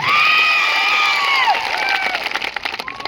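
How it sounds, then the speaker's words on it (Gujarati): A political rally crowd bursts into loud, sustained cheering and clapping, with whistles and shouted voices rising over the applause before it thins out toward the end. "એવા આદિવાસી સમાજ માટે પણ એકવાર જોરદાર તાળીઓ પાડી લો"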